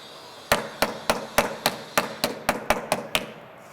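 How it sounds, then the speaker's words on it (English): A hammer strikes a dented car body panel during glue-tab dent repair, about a dozen sharp metallic smacks in a quick, even series, close and loud. "I'll give that a big smack right there."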